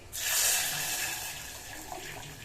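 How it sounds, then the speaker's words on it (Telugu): Water is poured over soaked tamarind while the pulp is squeezed for its juice in a home kitchen, a quiet, continuous splashing stream that settles into a gentler trickle. "దీన్ని కూడా వాటర్ పోసి పిండేస్తాం"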